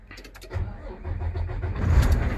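A truck engine cranks over and catches, rumbling up loud and close after a brief starter whir, then settling into a steady running roar.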